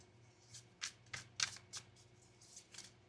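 Playing cards for a reading are shuffled in a series of soft, brisk riffles and snaps, close up and fairly quiet, with no voices.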